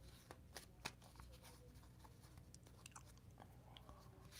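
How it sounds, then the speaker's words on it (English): A Citadel tarot deck shuffled briefly by hand: faint papery riffles and soft card clicks close up, quiet and irregular, ending in a sharper tap. "So I'm going to give it a quick shuffle."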